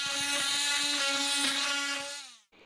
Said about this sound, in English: I also used some other sanding tools to sand out some of the other parts